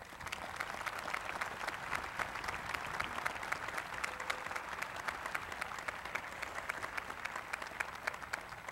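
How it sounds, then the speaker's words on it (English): A commencement audience applauds at a graduation ceremony, a dense, even wash of many hands clapping that holds steady and fairly loud for the whole stretch. "Please join me in a round of applause for those students that have had to suffer a bit more to get here today."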